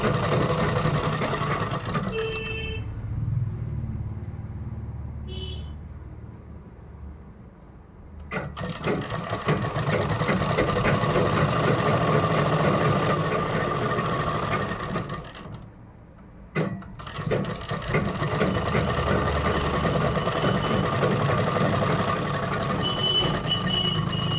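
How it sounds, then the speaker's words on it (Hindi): A sewing machine stitches a kurta seam in bursts: a steady close whirr, a pause of a few seconds, then long continuous runs broken by a brief stop. "यहाँ से इसमें पलट सिलाई देंगे, जैसे कि मैं दे रही हूँ।"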